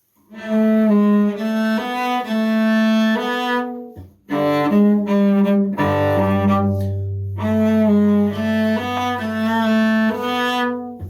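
A bowed cello plays a short melodic line of sustained notes with brief pauses between phrases. A low note rings beneath the upper notes midway through. No talking.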